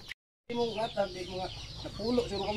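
Native chicken roosters cluck in a rapid series of short calls, nearby and moderately loud, following a brief silence at the start.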